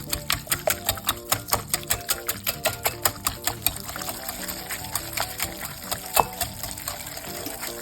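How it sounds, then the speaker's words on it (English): A whisk mashes a vegetarian lasagna cheese filling in a bowl, making a quick, even run of close tapping clicks against the bowl over a soft, wet squelch. "Then I take a whisk and I just kind of mash the whole thing up."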